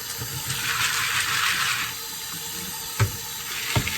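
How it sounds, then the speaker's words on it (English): Tap water runs steadily over pinto beans in a kitchen sink, a close, constant hissing wash that fades partway through, followed by two soft knocks and no talking. "So I'm going to wash the beans up before I let them soak."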